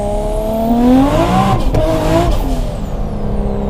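A turbocharged RB26 engine in an R33 Nissan Skyline accelerating hard, loud rising revs with a brief drop at a gear change before climbing again, no voices.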